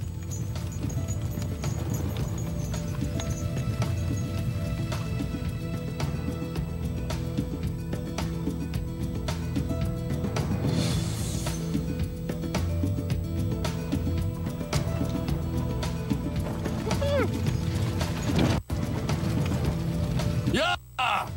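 Horses pull a chariot in a dramatized ancient Egyptian setting, hooves clip-clopping steadily throughout beneath a dense mix of shouting voices and background sound.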